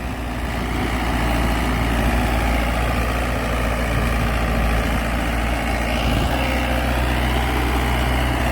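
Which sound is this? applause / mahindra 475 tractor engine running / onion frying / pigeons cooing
mahindra 475 tractor engine running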